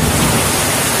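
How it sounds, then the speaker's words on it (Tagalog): Heavy rain pours down in a dense, loud, steady roar of broadband noise, close and unbroken for about a second, with no voices. "ang lakas ng ulan"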